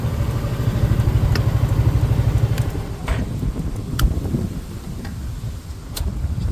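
A small scooter engine idles with a steady low chugging, then cuts off about two and a half seconds in, leaving ticking and clicking from the cooling bike and faint outdoor background.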